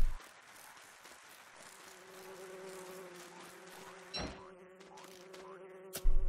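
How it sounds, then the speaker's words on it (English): Bees buzzing in the Don't Starve Hamlet video game, a steady droning hum that runs continuously through the clip with a few louder game sound effects popping in near the end. "Now I've got all these bees everywhere."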